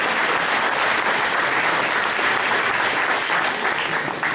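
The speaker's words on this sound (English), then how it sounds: "Give a round of applause for our individual rights committee." A general meeting audience gives loud, dense applause for the individual rights committee, sustained clapping from many people filling the room throughout.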